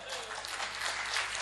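Audience applause at a Hindi comedy poetry gathering, a dense burst of clapping filling the whole short stretch at moderate level, faint and slightly distant.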